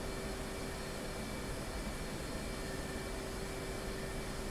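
Steady jet engine whine and roar of an F/A-18C Hornet in the flight simulator DCS World, faint and continuous with a constant tone throughout and no speech.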